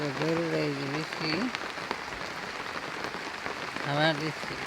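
Rain keeps up a soft, even hiss in a Bangladeshi village while a voice calls out in drawn, repeated sounds at the start and again near the end, the rain alone filling the gap between.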